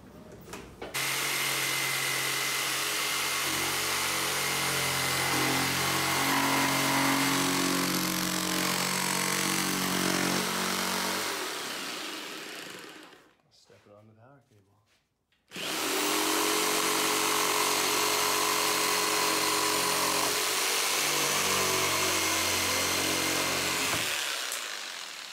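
A power tool cuts through a car bumper in two long, loud, continuous runs of buzzing, grinding noise, split by a brief pause near the middle.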